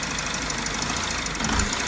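A car engine running rough while its EGR valve is active, idling with a steady uneven knocking beat close by, fairly loud and with no voices over it.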